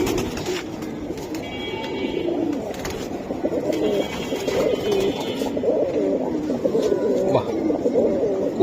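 Giribaz pigeons, Bezi type, coo steadily and overlapping at close range throughout, a dense murmuring chorus with faint background voices mixed in.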